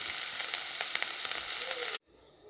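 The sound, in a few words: sautéing ginger-garlic paste in a pan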